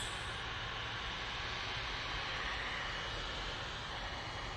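A Cathay Pacific Boeing 777-300ER jet bound for Hong Kong at Manchester Airport produces a broad, steady engine rumble and hiss at moderate distance, with no talk.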